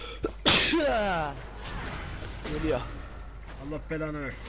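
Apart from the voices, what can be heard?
sneeze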